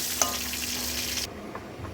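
Potato pieces frying golden in hot oil in a wok give a dense, close hiss for about a second, then the sizzle cuts down to a quieter crackle.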